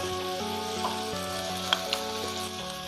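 Leftover minced beef and a small chopped onion fry in a spoonful of oil in a pan, giving a steady close sizzle under faint tonal background music, with a couple of brief clinks of stirring.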